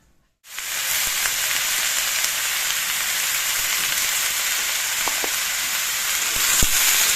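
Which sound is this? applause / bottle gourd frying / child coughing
bottle gourd frying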